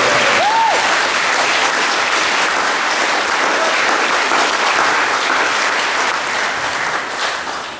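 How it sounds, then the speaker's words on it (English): An indoor audience gives a sustained round of applause at a workplace farewell announcement, dense, loud clapping that holds steady for several seconds before beginning to taper. "give Megan a huge round of applause"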